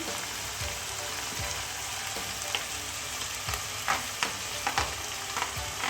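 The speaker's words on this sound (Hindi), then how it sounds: "इसको अच्छे से मैं भूनूंगी, जब तक कि प्याज जो है हमारी बिल्कुल सॉफ्ट होके कलेजी के साथ मिक्स ना हो जाए" Chicken liver (kaleji) fries with onions in a pan, giving a dense, steady sizzle with occasional spatula taps and scrapes from stirring, close and continuous, with no speech.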